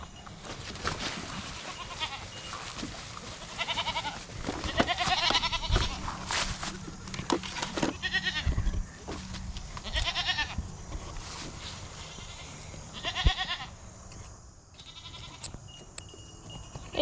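Several sheep on a homestead bleat repeatedly at close range, calls overlapping and recurring every second or two amid farmyard clatter and rustling.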